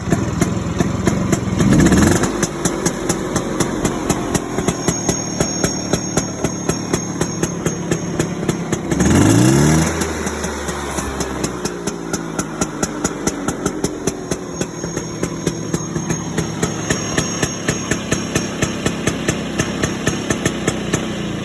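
Vespa small frame scooter engine being kicked into life, catching after a couple of attempts, then settling into a loud, close, rapid popping idle that runs steadily with a small blip partway through.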